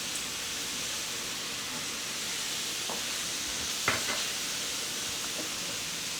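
Food browning over medium heat in a skillet, a one-pan onion ring casserole in progress, gives a steady, even sizzle throughout with a few light clinks and stirring scrapes near the middle.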